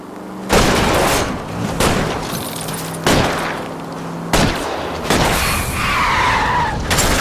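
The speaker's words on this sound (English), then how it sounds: "I'll try to shoot out his tires." A car chase in the video game L.A. Noire: loud, sustained tyre skidding and engine roar broken by several sharp gunshot bursts spaced a second or two apart, dense and close with no speech.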